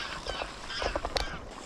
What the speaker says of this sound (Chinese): 这个岛上怎么这么多海鸥呀？